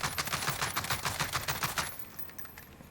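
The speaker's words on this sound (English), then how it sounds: "Let's look at hip fire." Hip fire from an Oden assault rifle in a video game: a loud, rapid burst of automatic shots for about two seconds, then the firing stops and a quieter tail lingers.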